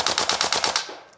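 A Tokyo Marui AKM gas blowback airsoft rifle fires a rapid full-auto burst of about eight sharp, evenly spaced reports, loud and close, followed by a brief trailing hiss as the burst stops.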